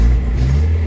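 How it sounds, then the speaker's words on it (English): A Mazda Miata engine idling low and revving slightly in a driveway, a close, loud steady hum with deep rumble in a brief stretch. "Let's rev it up a bit."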